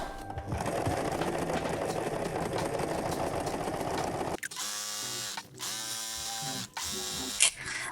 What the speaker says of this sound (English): Let's see how it behaves. Let's sew this.